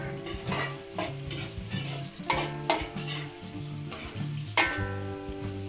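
Chopped onion and garlic fry in a hot pan for a Filipino dish, giving a steady sizzle broken by repeated scrapes and stirs of a utensil against the metal.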